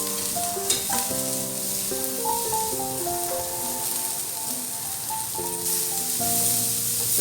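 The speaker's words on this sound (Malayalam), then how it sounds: "സബോളയും നമ്മുടെ ക്യാരറ്റൊക്കെ ഒന്ന് ശരിക്കും വെന്ത് വന്നോളൂ." Onions and carrots sauté in a pan with a continuous close sizzle and occasional stirring, while soft music plays underneath.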